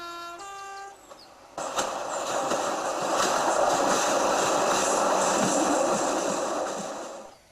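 A train passes beneath a road bridge on Station Road in Llangynwyd, Wales, roaring loud and close for several seconds, preceded by a brief horn toot.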